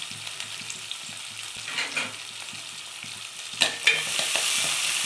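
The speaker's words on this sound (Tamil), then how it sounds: "இப்படி ஒரு கிண்டி விடுவோம்" Steady sizzling of small onions frying in a pan for fish gravy, with a couple of scraping stirs from a spoon partway through.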